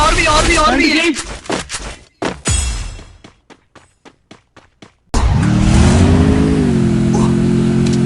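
A vehicle engine in a video game roars up abruptly and holds a loud, steady droning hum. Before it, people talk and sharp gunfire-like cracks sound over the game.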